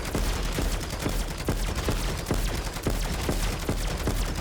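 Sentry gun in MW3 Zombies firing rapid, evenly spaced bursts of shots that run steadily from start to finish, fairly close and alone without talk.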